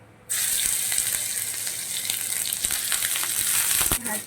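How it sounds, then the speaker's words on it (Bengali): Garlic and ginger paste drops into hot oil in a wok, bursting into a loud, continuous sizzle after a brief quiet start, with occasional spatula taps before the frying suddenly drops away near the end. "তো এখানে পেস্ট করা রসুনটা আমি দিয়ে দিচ্ছি, রসুন আর আদাটা"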